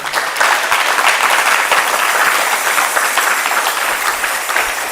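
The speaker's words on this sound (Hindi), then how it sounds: "अभी भी माताएं, थोड़ा तालियों में कमी मत कीजिए।" Audience at a devotional Srimad Bhagavatam lecture applauding, a loud, steady wash of many hands clapping filling the whole stretch without pause.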